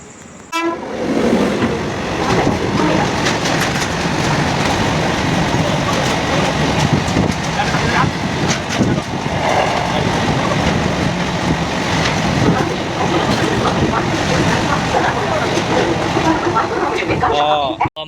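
A train pulls in at a station platform with a horn toot, steady loud rumble of rail cars throughout, and people talking nearby under the noise.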